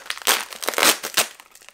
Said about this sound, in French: On continue ensuite avec un autre colis, si je vais réussir à bien en couper le scotch, c'est super bien fermé